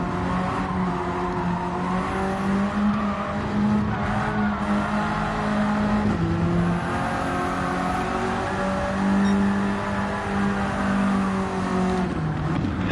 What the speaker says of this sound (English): This car is spinning its wheels at 220 kilometers per hour.